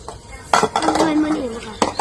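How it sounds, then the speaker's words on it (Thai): Bowls and dishes being washed by hand while preparing for a Kathin merit-making festival, with ceramic clinks and clatter, a louder knock near the start and another near the end, under steady rinsing noise. "สองสาวพี่ไอ้กับน้องล้างถ้วย เตรียมงานกฐินมื้ออื่น"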